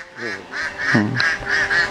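Khaki Campbell ducks on a duck farm giving repeated nasal quacks close by, a rhythmic run of calls filling two seconds.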